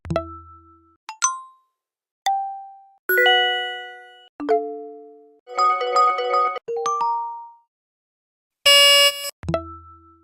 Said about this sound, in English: we've checked different alert sounds